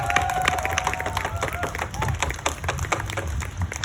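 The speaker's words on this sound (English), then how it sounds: "Give her a big round of applause" Audience clapping in a loose, uneven patter of individual claps at a community gathering, moderately close, with faint voices mixed in beneath.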